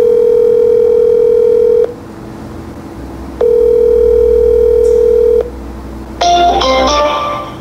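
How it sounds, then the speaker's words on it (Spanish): A phone line rings on an outgoing call: two long, loud, steady electronic ring tones separated by a pause, followed by a short burst of higher beeping tones, close and alone with no voices. "Ok, está entrando la llamada"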